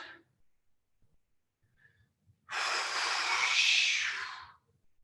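A single long, forceful exhale during a kung fu calisthenics class, breathy and close, lasting about two seconds after near silence, with a faint short breath at the start.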